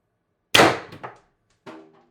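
A homemade X-68 Storm Trooper air gun charged to 800 psi fires one sharp, loud shot, followed by a brief metallic rattle and a fainter mechanical clack shortly after; nothing else is audible.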